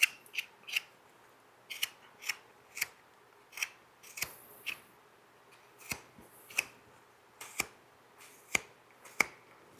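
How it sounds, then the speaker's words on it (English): A carving knife shaves paring cuts across the grain on a wooden pumpkin, giving a dozen or so crisp, close slicing snicks in an uneven rhythm against near silence. "It's called a pairing cut. Coming across here, we're going against the grain."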